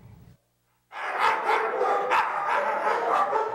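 Several dogs bark repeatedly inside an animal shelter, a loud overlapping chorus of barks that starts after a short pause and keeps going without let-up.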